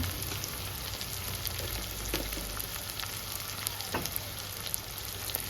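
Sliced onions with a little salt frying in a pan for Telugu chicken fry, a steady close sizzle with faint occasional stirring ticks and no talk.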